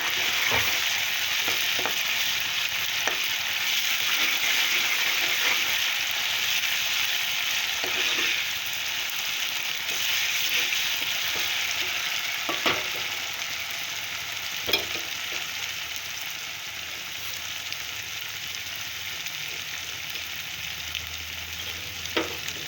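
Paste frying in a pan for prawn gongura curry, a loud continuous sizzle with occasional scraping stirs and ladle taps, no talking.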